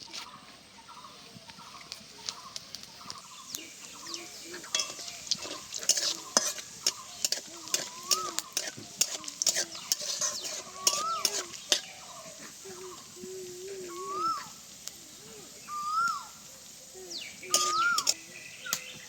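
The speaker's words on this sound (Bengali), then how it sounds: "ফোড়নটা খুব ভালোভাবে ভেজে নিয়েছি" Dried red chilies, cumin seeds and whole garam masala spices frying in hot oil for a fish kofta curry tempering, a steady sizzle with repeated stirring clicks and scrapes, plus faint bird calls in the background.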